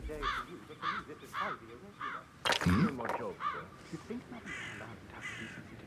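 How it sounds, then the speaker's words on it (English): Crows caw repeatedly in Hitman 3 during the Death in the Family mission, harsh rhythmic calls close by and fairly loud, with a sudden thump partway through and faint voices mixed underneath. "Damn birds!"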